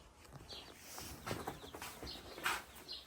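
Newly hatched chicks chirping in short, high-pitched bursts, scattered and fairly close, over a low background hum.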